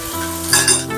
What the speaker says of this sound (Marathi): आता ही शिमला मिरच सुद्धा मी शॅलो फ्राय करून घेणार आहे